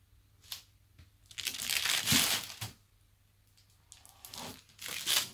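A hard, boiled-down Coca-Cola candy ball is cut in half, giving close crunching and cracking with a long grinding stretch in the middle and shorter crunches near the end.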